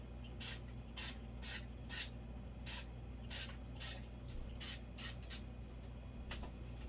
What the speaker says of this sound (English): I don't want to spray silicone all over the place.